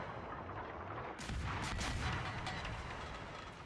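Naval gunfire from a destroyer in World of Warships. A low steady rumble rises into a loud blast midway, followed by a few sharp booming reports as the shells fire, then sustained rumbling.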